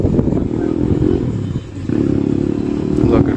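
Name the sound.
Kayo T2 motorcycle engine revving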